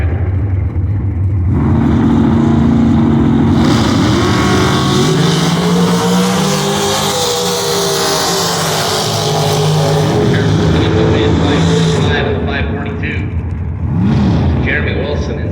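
A front-engine dragster on its drag race run at Spring Fling 240 in Las Vegas: a loud, sustained engine roar that rises and holds for most of the clip before easing off, with an announcer talking over it.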